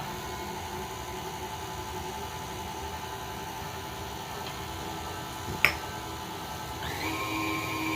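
An electric whisk mixes chocolate cake batter with milk, a steady faint whirring drone running throughout, with a sharp click midway and the motor pitch shifting near the end.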